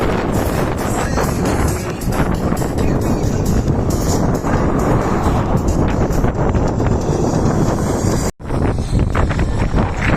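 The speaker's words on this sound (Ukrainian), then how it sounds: "Ви ну от подивіться, який вітер." Strong wind while cycling along a rural highway in Ukraine: loud, constant wind buffeting the microphone for about ten seconds, a dense roaring rush with a brief dropout near the end.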